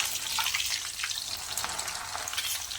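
Peeled, crushed garlic sizzles and crackles in hot oil while being fried for a Pune-style Laxminarayan chivda, a steady close frying hiss with small popping bursts.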